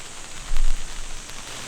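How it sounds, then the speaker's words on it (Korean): Rain falling at a forest campsite in Chuncheon, a steady hiss of drops across the surface with a brief louder rumble partway through, alone with no voices. "갑자기 또 비가 오기 시작했어요"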